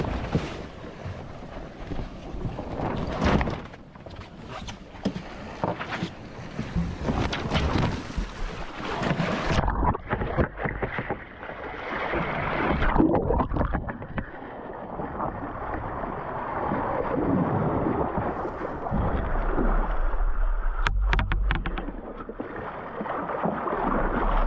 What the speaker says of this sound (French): Là on a un vent un petit médium, on est à 12 nœuds.